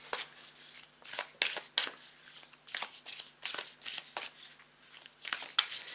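Oracle cards are shuffled close up in quick, papery riffles and slaps that repeat steadily for several seconds, with no talking.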